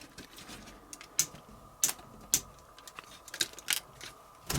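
The ratcheted shoulder joint of a Cang Toys Firmament (Divebomb) action figure clicks as it is moved, producing a series of crisp, close, irregular plastic snaps with quiet pauses between them.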